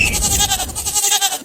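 A goat bleats in a long, wavering cry that fills the moment, close and fairly loud, with a faint second bleat trailing near the end.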